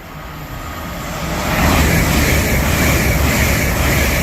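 A Hull Trains service of two coupled Class 802 units at Peterborough on the East Coast Main Line, a steady broadband roar building over the first second and a half and then holding loud and close as the train passes.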